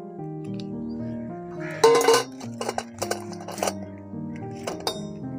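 Cut Oreo biscuit pieces clink and clatter into a bowl in a short burst of rattling impacts, with a few scattered knocks afterward and no speech.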